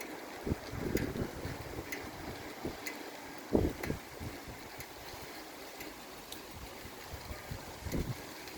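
Strong wind blusters outdoors at a rural home, a steady rushing roar with gusty thumps of buffeting against the microphone, fairly faint overall.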